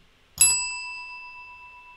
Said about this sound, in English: So I ring a bell and then I pause long enough that I think you can answer comfortably